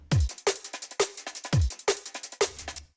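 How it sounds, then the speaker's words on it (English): A dry jungle drum and bass break with no drum bus processing: punchy kicks with deep pitch-dropping tails, crisp snares and rapid ghost hits in a fast, busy pattern, loud and close, ending abruptly. "So with no drum bus processing, it sounds like this."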